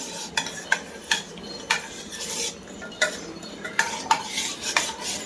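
Milk with GMS powder stirred in a pot for vanilla ice cream, a utensil scraping and clinking against the metal in a steady series of close, moderately loud strokes, with no talking.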